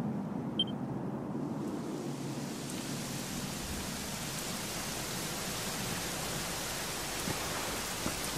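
Steady rain hisses evenly throughout in Dragon Quest XI, a constant wash of falling water with no voices.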